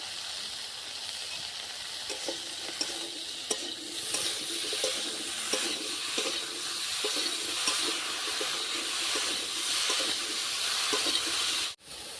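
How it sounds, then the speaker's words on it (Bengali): Brinjal pieces fry in hot oil in a village kitchen, giving a steady, moderate sizzle and hiss with occasional stirring clicks throughout, ending with a brief knock. "এই তেলেতে বেগুনটাও ভেজে নেব"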